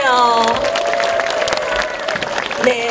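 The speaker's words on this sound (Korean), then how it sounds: "박수 한번 보내주세요" An audience at an outdoor neighbourhood concert in a Busan apartment complex applauds in a brief crowd burst, with some cheering mixed in, while tonal voice or music sounds ring over the clapping.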